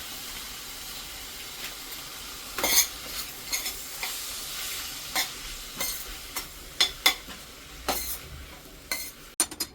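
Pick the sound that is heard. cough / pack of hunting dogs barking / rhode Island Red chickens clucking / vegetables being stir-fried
vegetables being stir-fried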